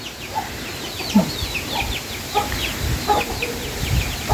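Chickens cluck in short, repeated bursts at close range as they are fed rice near a pig pen on a farm, with scattered calls over a constant outdoor background hum.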